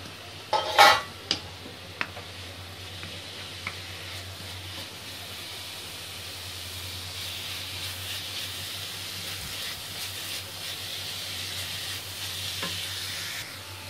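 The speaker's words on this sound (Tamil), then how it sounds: "கோஸும் லைட்டாக வதங்கினா போதும், ஓரளவுக்கு ரொம்ப வேகணும் இல்லை" Cabbage stirred and lightly sautéed in a pan, with a few sharp utensil clinks near the start, then a steady soft sizzle and occasional scraping carrying on alone throughout.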